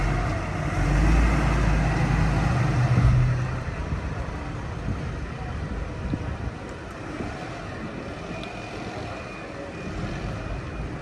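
A First Eastern Counties bus on route 75 to Felixstowe drives through Ipswich streets, its low engine rumble swelling close by and then easing into a steady broadband traffic roar.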